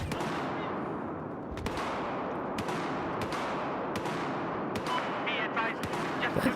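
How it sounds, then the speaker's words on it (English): Heavy gunfire in a video game: about eight loud, sharp bangs at uneven intervals, each with a decaying tail, over constant battle rumble, with a tank nearby. "That is a big banging sound. Like, what gun do you have there, buddy?"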